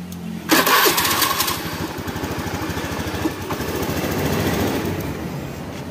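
The engine of a Honda Beat scooter with sluggish acceleration turns over with a short starter whir, catches and settles into a steady, close, rapid idle putter that runs to the end, with no talking.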